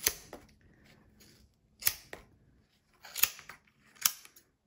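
Scissors cut through a dense yarn pom pom being shaped into a heart, giving four separate crisp snipping crunches spaced across a quiet background, close and distinct.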